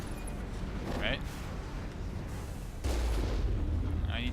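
Gunfire aimed at a turret in Mass Effect, a string of booming shots and blasts spread across the stretch, heavier near the end, under someone talking.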